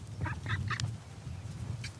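Indian runner ducks quack near water, a few short bursts close together followed by a single later quack, over soft background noise.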